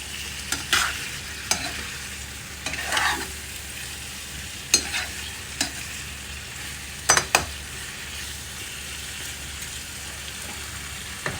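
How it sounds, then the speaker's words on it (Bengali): Dried ribbonfish curry sautés in a pan, a steady low sizzle broken by sharp scraping clacks of a spatula stirring at irregular intervals, close and alone. "এটাকে এখন একটু ঘুরিয়ে রাখবো কষিয়ে নিব সুটকিটা যেন একটু ইয়া হয়"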